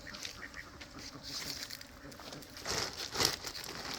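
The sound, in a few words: domestic ducks quacking on a duck farm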